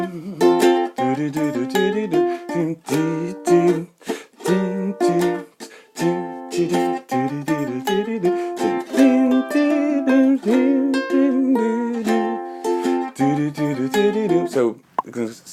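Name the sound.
ukulele playing a riff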